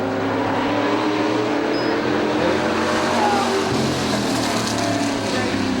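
Race cars running a 12-lap short-track feature at Motordrome Speedway make a dense, loud engine roar from several cars circulating together.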